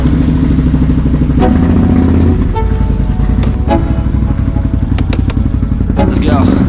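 A Can-Am Renegade 1000 ATV engine drones steadily and loudly while riding, with clattering jolts and a few sharp knocks over the top.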